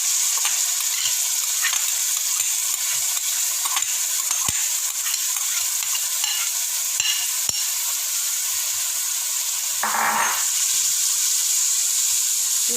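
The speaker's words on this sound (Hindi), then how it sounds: "इधर मैंने दूसरी कढ़ाई में थोड़ा सा ऑयल डाला है। इसमें जो प्याज रखे थे ये मैं इसमें डाल रही हूँ ताकि ये नरम हो जाए।" Onions sizzle in a little oil in a kadhai over medium heat for a stuffed karela dish, a steady close hiss with light stirring scrapes throughout and no voices.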